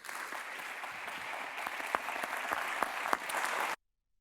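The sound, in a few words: audience applause thanking presenters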